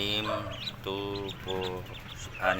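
Newly bought ducks and chicks call close by, a run of short repeated clucking and peeping cries in quick bursts, with a faint voice in the background.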